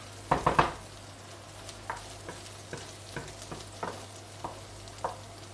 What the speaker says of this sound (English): Frying tomato paste and onions.